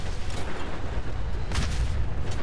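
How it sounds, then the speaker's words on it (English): A couple of heavy, booming Fallout 4 explosions burst over a dense, rumbling background, the second blast near the middle standing out most. "2 explosions."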